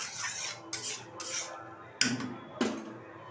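A metal lid clatters onto a cooking pot of pointed gourd stems with fish roe: a few soft knocks, then two sharper, ringing metallic clanks close by, with no talking.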